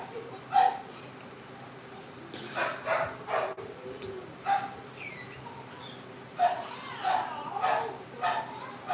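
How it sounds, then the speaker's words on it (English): Dog barking indoors, scattered yips and barks at moderate distance, mixed with chirpy squeals and background household noise. "And they've got the dog worked up in there."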